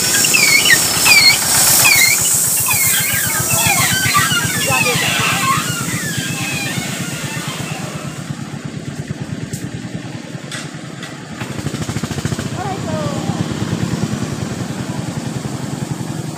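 A motor van's engine running nearby: a continuous, rattly engine drone with squealing tones early on, under people calling and talking throughout.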